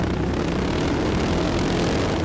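Royal Enfield Himalayan motorcycles throttling hard on a race track, a loud, dense, continuous engine roar that holds steady and close throughout without any talk.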